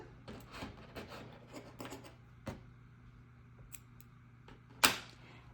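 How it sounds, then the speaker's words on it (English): Scissors cut crochet yarn while an amigurumi Christmas tree is finished: quiet close handling clicks and rustles, then one sharp, loud snip near the end. "what I'm gonna do is I'm going to cut the yarn"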